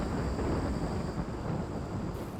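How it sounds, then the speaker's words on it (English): Thunderstorm ambience in the colony game Rimworld: a continuous loud, broad rumble of storm noise and rain fills the whole stretch, with no talk over it. "Such a loud storm."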